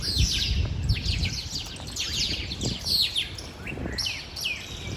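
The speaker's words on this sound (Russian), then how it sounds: "Послушайте, как птицы поют, сколько их здесь." Numerous birds sing and chirp together in Peru, a dense overlapping chorus of bright whistles and tweets running continuously for several seconds at moderate loudness, with no talking.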